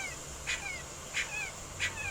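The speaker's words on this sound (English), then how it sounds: "it's a puppy, and I can't see it, but it's crying" A puppy trapped in a hot car gives three evenly spaced high whimpering cries over a steady background hum, muffled as if through glass.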